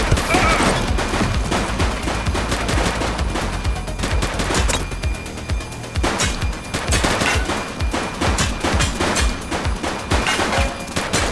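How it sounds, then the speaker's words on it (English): Dense, continuous gunfire from a shooting suspect in The Precinct police video game, with rapid bursts and automatic fire, sustained and loud for the whole stretch with brief lulls, plus faint game voices. "He's shooting!"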